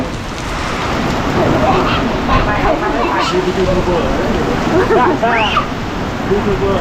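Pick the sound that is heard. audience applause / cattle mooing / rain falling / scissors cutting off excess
rain falling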